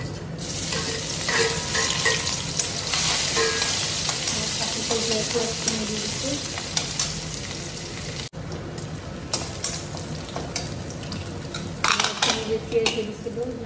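Panch phoron spices fry in hot oil in a wok, a loud steady sizzle with crackling pops and scraping stirs, briefly cut off then resuming with sharper bursts near the end, alone without talk.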